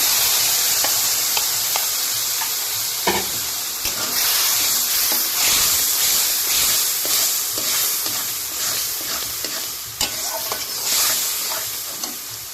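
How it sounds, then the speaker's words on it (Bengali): Boiled lentils (dal) for a sweet pumpkin-stalk dal are poured into a hot pan. A loud hissing sizzle rises and carries on, with scattered clinks and stirring clatter across the stretch and no voices. "সেদ্ধ করা ডালটা ঢেলে দেব"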